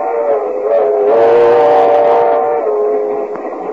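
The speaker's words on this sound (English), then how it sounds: "So we now find Mr. and Mrs. George Burns in a compartment on a train approaching Kansas City." A train sound effect from a 1940s old-time radio show, with a steady whistle-like horn tone holding over rumbling rail noise as the train nears Kansas City, loud and continuous with no talk.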